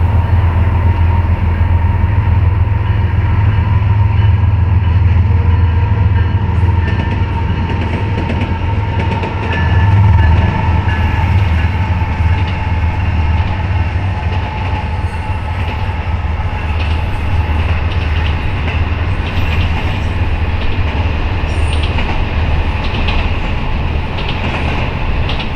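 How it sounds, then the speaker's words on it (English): A Norfolk Southern intermodal freight train, GEVO locomotive leading with a C6M trailing second, rolls past close by as a loud, steady rumble with continuous wheel noise and rail clatter throughout. "a Norfolk Southern intermodal with a GEVO leading and C6M trailing second"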